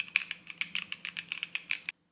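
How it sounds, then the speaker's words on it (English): Crisp, rapid keystrokes on an Asus ROG Azoth custom mechanical keyboard fitted with Snow White switches, a steady clacky run of presses close to the mic, quiet overall and alone before stopping abruptly. "This is an ROG Azoth keyboard from Asus, and this is actually a custom keyboard, so it honestly sounds amazing."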